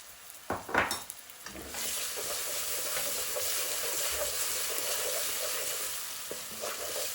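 Onions frying in a pan with ginger and garlic paste for a bhuna base in a kidney bean curry, a steady close sizzle after a few clinks and stirring knocks at the start.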